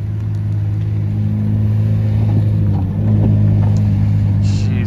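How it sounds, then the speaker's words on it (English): A McLaren Senna GTR drives past with a loud, steady engine drone and strong low hum, its pitch rising slightly as it gets louder near the end. "here comes Batman in the Senna GTR"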